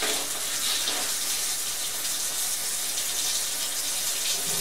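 Water runs steadily from a sink faucet fed through a Nahla Pure Ultra High Capacity under-sink filter, a loud, close, continuous hiss and gush with no talking.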